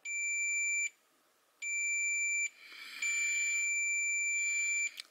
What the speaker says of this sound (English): put it on continuity, and then just come in. I'll just do this so you can hear it beep